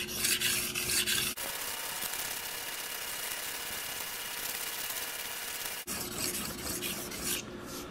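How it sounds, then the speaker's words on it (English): A Palmer Extreme Cut 160 broadhead blade is sharpened with a continuous, close, gritty rasping stroke, a longer sustained pass between two briefer harsher passes, with no talk. "What I'm going to do next is I'm going to sharpen one side until I get a burr."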